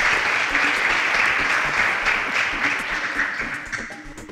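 A classroom group gives a student a round of applause, dense and sustained at first, then thinning and fading over the last second or so.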